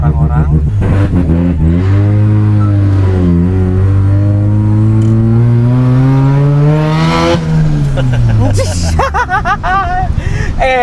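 A Mazda RX-7 LBWK rotary engine revs loudly close by, its pitch climbing and falling in sustained pulls while people talk over it.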